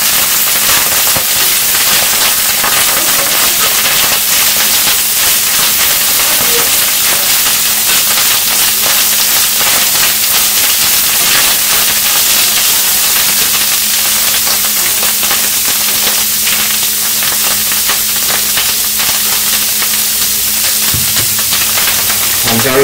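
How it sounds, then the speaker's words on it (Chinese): Sauerkraut cooking in a hot pot gives off a continuous, loud, dense hiss and crackle of steam and sizzling that fills the whole stretch without letup. "蒸的厉害啊！"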